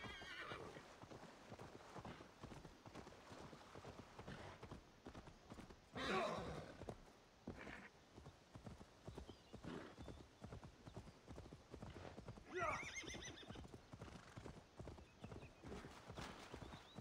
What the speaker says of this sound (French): On m'emmène mon cheval volant.